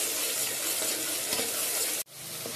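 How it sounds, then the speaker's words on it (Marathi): Onion and tomato puree frying in oil with asafoetida, stirred in a pan: a steady, dense sizzle with faint scraping, briefly cutting out near the end before resuming, no talk. "कांदा टोमॅटोची प्युरी करून आपण छान भाजून घेऊया।"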